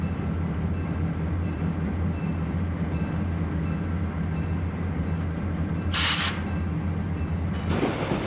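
A train climbing a 15-mile mountain grade from Bartlett to Crawford Notch rumbles steadily with a deep, droning engine and wheel noise, a brief hiss of air near the end.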